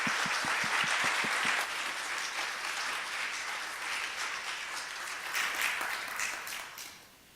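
An audience applauds to welcome Garrett Evans to the stage, steady warm clapping from a sizeable crowd that holds for several seconds, then fades out at the end.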